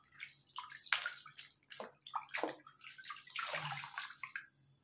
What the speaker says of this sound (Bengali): এই যে ভিজিয়ে নিলাম, টাওয়ালটা ভিজিয়ে নিয়েছি।